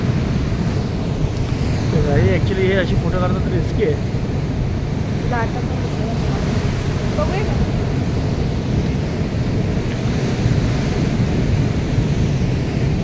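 Sea waves break continuously against a rocky shore at Harihareshwar, a steady roar of surf mixed with wind noise on the microphone, while people talk close by throughout.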